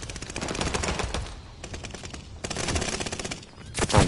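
Rapid video game gunfire in Vanguard, dense bursts of repeated shots fired in quick rhythmic volleys with brief pauses between them, loud and close, with no talk over it.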